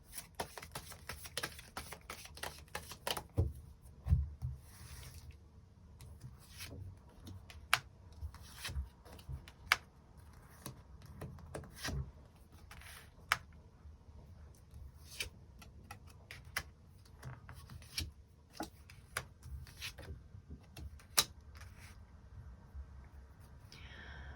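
Tarot cards being shuffled and drawn, soft irregular ticks, flicks and slaps of card stock in a quiet room, scattered close taps continuing throughout with no talking.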